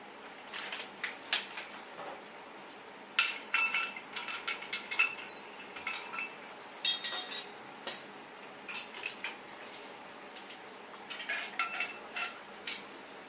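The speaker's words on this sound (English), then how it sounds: "So now I'm going to just clean the ice." Ice cubes clink and knock against a glass while being rinsed for a whisky highball, in scattered, crisp bursts of clatter with short pauses, fairly quiet and with no talking.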